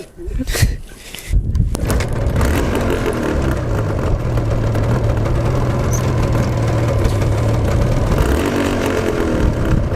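A 1985 Yamaha TZR 250 two-stroke motorcycle engine catches after a few rough bursts, then settles into a steady, close, loud idle.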